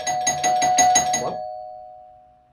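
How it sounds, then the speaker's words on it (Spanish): A doorbell rings alone in a quiet room: a quick burst of about five rapid chimes, then one steady tone that slowly fades to silence. "Es extraño, ni siquiera he instalado el timbre todavía."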